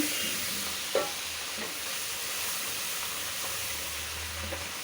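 Dried fish curry with winter vegetables being sautéed in a pan, a continuous hissing sizzle with a single sharp knock of a utensil early on and faint scraping afterward, no talking.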